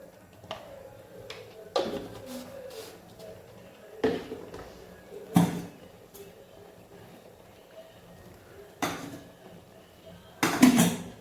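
Onions stirred in a cooking pan on a home stove, a spatula giving a few spaced, sharp metallic clanks and scrapes over a quiet room hum.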